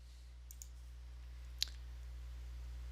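Computer mouse clicks on a buy and sell button: a couple of faint, sharp taps early, then one crisp, louder click, all over a low steady hum in a quiet room.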